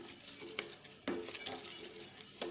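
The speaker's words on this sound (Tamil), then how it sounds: "இதை கொட்டிட்டு அரிசியை போட்டு வறுக்கலாம்." Rice is stirred and dry-roasted in a pan for Aadi kummayam, with a utensil scraping and clinking quietly against the metal in a soft, continuous rhythm.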